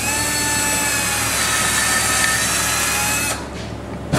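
A power drill whines steadily into wood at close range, then the motor drops off and stops near the end.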